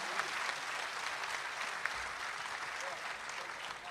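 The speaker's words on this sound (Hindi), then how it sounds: "एक बार जोरदार तालियां बजाकर उनसे कहिएगा" A large crowd at an Urdu poetry mushaira claps in a sustained, even roar of applause, heard from a distance and somewhat faint, with a few louder individual claps standing out.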